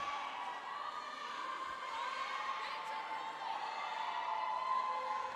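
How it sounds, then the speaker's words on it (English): A roller derby crowd at a bout between Halifax Bruising Banditas and Newcastle Roller Girls cheers and whoops continuously, a steady, fairly faint roar of many voices with no pauses. "listen at that crowd. I don't know if you can hear them, ladies and gentlemen, but they are going nuts"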